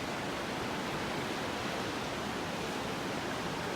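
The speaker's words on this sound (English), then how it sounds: "Listen to those waves rocking and rolling." Ocean surf washes onto the beach at Delnor-Wiggins Pass State Park in North Naples, Florida, as a constant, even rush of noise without distinct breaks between waves.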